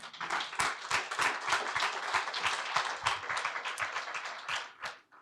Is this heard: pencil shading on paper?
no